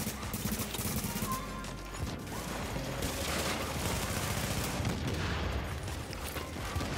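Sustained, dense gunfire in The Division 2, with rapid overlapping shots and bursts going on without a break for the whole stretch, loud and close.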